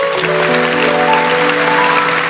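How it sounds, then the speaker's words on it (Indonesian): A church congregation applauds and cheers for God in a dense, loud, continuous roar of clapping and voices, with sustained musical tones ringing underneath. "Siapa yang percaya berikan sorak-sorai bagi Tuhan."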